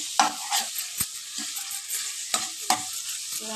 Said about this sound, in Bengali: সেইভাবে পেঁয়াজগুলোকে বেশ ভাজতে হবে